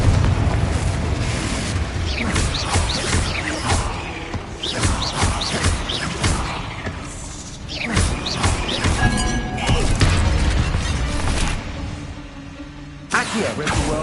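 Confringo blasting spell in Hogwarts Legacy, a run of booming crashes and shattering impacts layered over dense game noise, loud and continuous for most of the stretch with brief lulls.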